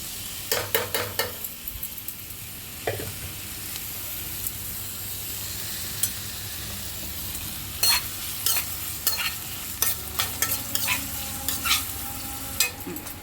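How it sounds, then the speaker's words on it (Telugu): Onions frying in oil in a kadai, stirred with a spatula: a steady sizzle underneath, with clusters of sharp scraping clicks scattered through, heavier toward the end. "ముందుగా ఉల్లిపాయలు వేయించుకోవాలి"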